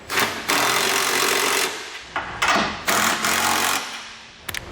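Trailer hitch bolts on a 2017 Ford Transit are driven with 3/4 inch and 11/16 inch sockets while a Curt hitch receiver is installed, making loud, buzzing bursts of about a second each, separated by short pauses and ending in a few quick clicks.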